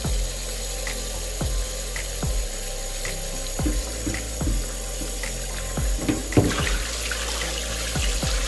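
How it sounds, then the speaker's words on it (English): Steady running water splashes continuously, with repeated soft knocks and handling thumps as oxtail is rinsed under the cold flow, close and moderately loud. "I'm going to wash it in cold water with vinegar."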